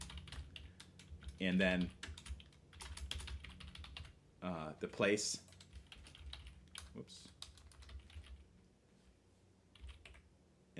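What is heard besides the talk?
typing on computer keyboard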